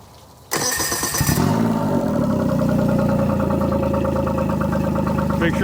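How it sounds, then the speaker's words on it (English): A 2024 Tohatsu MSF40A jet outboard motor cranks and catches with a sharp burst after a short quiet moment, then settles into a steady, loud, close idle that runs continuously. "Now I am going to start the motor."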